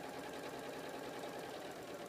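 A sewing machine chain-piecing quilt block squares for a nine-patch block runs in one steady, continuous hum of stitching, close and even for the whole stretch with no pauses.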